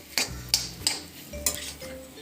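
A spoon stirs banana sheera, a sweet semolina dish made with ghee, in a pan: four or five soft scraping strokes in an uneven rhythm, close and quiet, with no voices.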